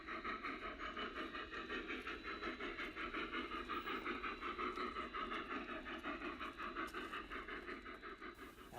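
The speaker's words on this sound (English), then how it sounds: "the train starts moving towards the Sierra section of the railroad." A live steam garden railroad locomotive sets off, its steady rapid chuffing and mechanical rumble continuous and fairly close, with no talking over it.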